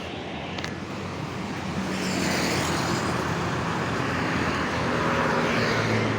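Motorbikes and cars pass along a road, making a steady, loud rush of traffic noise that swells slightly as vehicles go by, with no talking.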